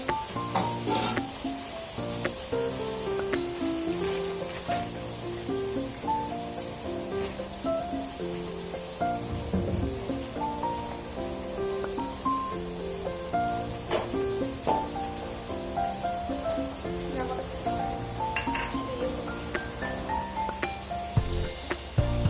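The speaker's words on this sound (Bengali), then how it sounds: "তোমাদের দাদা ভাই পকোড়া কটা ভাজছে, এদিকে আমি চিকেন কটা কষাচ্ছি" Pakoras sizzle in hot oil while chicken is sautéed in a second pan, giving a dense, continuous frying hiss with frequent small clinks and scrapes of utensils throughout.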